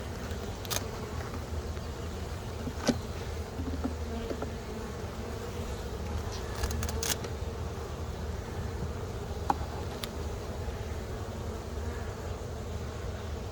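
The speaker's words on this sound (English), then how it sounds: "Bees doing what bees do," Honey bees buzz steadily inside a hive in spring, a dense continuous drone close by with a few sharper individual buzzes passing near.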